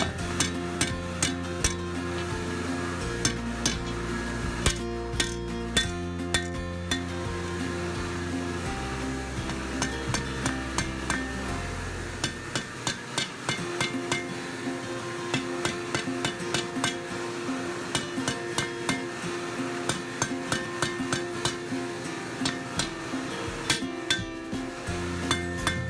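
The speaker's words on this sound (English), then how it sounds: "I'm going to switch over to a smaller 3-pound hammer and refine the shape so that I can get it to where I want" Three-pound hand hammer forging the point of a hand-and-a-half sword on an anvil, struck in steady, sharp, ringing blows that repeat closely over a low background hum.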